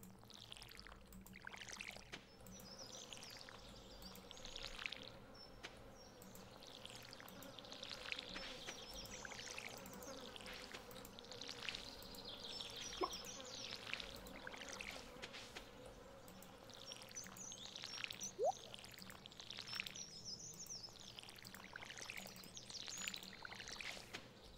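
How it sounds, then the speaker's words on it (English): Plants are watered with a watering can in Stardew Valley, a soft trickling pour that repeats in short bursts over a faint buzzing game ambience, quiet and without speech. "Let's water our plants now."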